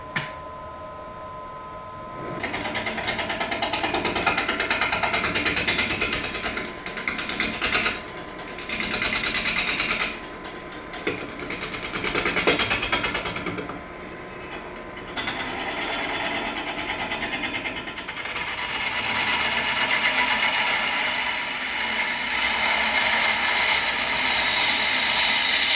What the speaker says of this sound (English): I'm gonna start out using a 3/4 inch bowl gouge to get it flat and maybe start dishing.